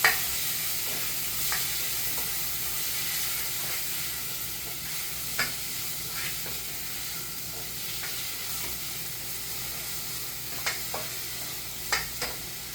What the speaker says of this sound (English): Stir and allow it to simmer for some time.